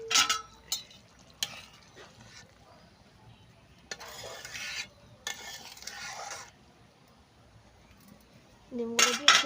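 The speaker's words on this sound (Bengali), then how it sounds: "এবার দিয়ে দিচ্ছি ডিমগুলো।" Eggs go into a pot of simmering Bengali egg curry gravy, with several short metallic clinks and scrapes of a spoon against the pot spread across quiet kitchen background, no talking.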